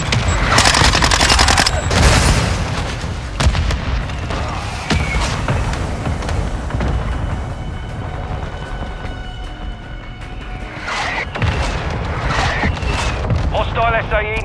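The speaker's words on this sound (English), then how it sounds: "Hostile mortar strike near your position." Mortar strike explosions in Call of Duty: Modern Warfare II: heavy booms and rumbling blasts mixed with bursts of gunfire, loud and dense over the whole stretch, with a spoken voice briefly over the battle noise.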